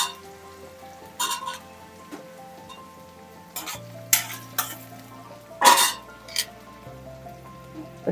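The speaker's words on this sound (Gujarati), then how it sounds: "પછી આ બધું હલાવી નાખવાનું છે." Vegetables with ginger and green chillies are stirred in a tawa pan over low gas for pav bhaji. A few scattered metallic scrapes and clanks stand out above a steady low hum, with no talking.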